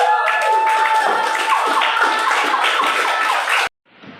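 A classroom audience claps for a presenting student group, steady dense applause for several seconds that cuts off abruptly, followed by a faint murmur.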